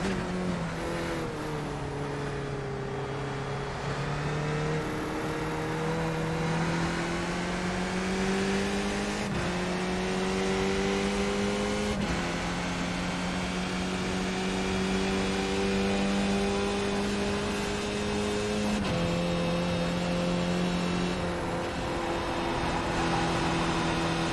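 A race car engine in a racing video game holds steady, loud harmonic revs that rise and dip between gear changes and braking, running continuously with no voices over it.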